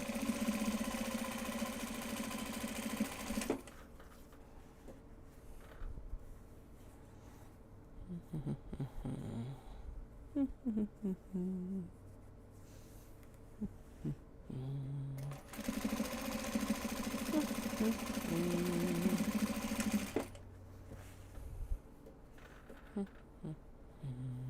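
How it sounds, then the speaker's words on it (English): Domestic sewing machine stitching drawstring channels on project bags made from Japanese fabric, running in two long steady bursts with a quieter stretch of handling and small clicks between them. "carefully folding and sewing the drawstring channels"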